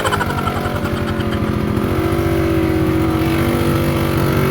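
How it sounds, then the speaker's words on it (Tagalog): A motorcycle engine labors steadily at high load climbing uphill on a mountain road, a loud continuous throaty drone with the pitch shifting slightly as it strains. "Parang hirap sa motor, ah."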